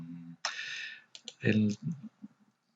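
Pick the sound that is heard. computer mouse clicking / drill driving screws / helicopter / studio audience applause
computer mouse clicking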